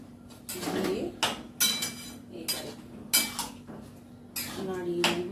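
Boiled peas being stirred in a pot with a spoon, giving several separate scraping clatters of metal on metal at an uneven pace, close up, with a low steady hum running underneath.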